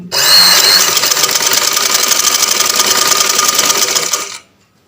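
A sewing machine stitches fabric in one continuous loud, close run of about four seconds, then stops abruptly, with no voices.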